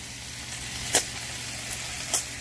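Carrots, celery and cabbage frying in a pan for pancit bihon give a steady, fairly quiet hiss, with a few brief soft ticks rising out of it.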